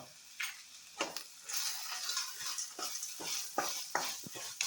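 Black pepper, coriander seeds and other whole spices dry-roasting in a pan, making a soft, steady sizzle broken by frequent light scraping and stirring clicks, quiet and close, with no talk.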